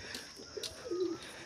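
Soft, low pigeon coos close by, a couple of brief murmuring calls over quiet background noise.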